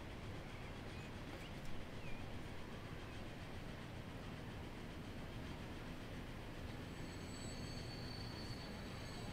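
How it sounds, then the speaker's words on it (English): A train rolls steadily along a branch line in the video game Transport Fever, giving a continuous low rumble with faint wheel squeal. The sound holds at an even, moderate level throughout, with no talking. "there's a return train again. And then we pull into the station."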